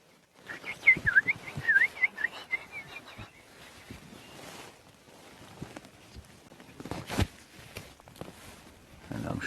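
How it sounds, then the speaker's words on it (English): Robins call faintly in the distance at dusk in the Mara, Kenya, with a few brief whistled phrases early on, set against quiet outdoor ambience and intermittent soft knocks and rustles. "You might just be able to hear the robins calling in the background."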